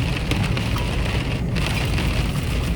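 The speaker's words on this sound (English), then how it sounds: "Just starting to fall asleep during the rain starting now." Rain coming down at night over a winter stealth campsite by a railroad, a loud, continuous dense patter on the shelter with no speech.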